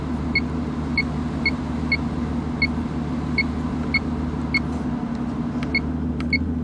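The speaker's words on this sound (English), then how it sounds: "every time you push anything, it beeps" Climate control buttons in an Aston Martin Vanquish emit a dozen or so short, high, clear beeps at irregular intervals, each press chirping above the steady low cabin rumble.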